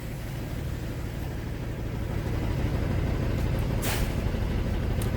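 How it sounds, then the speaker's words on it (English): Truck air brake system during a pre-trip brake inspection, heard as a steady broadband hiss and low engine rumble, with a short sharper burst of air midway and another near the end. "Now, she's going to release her parking brake."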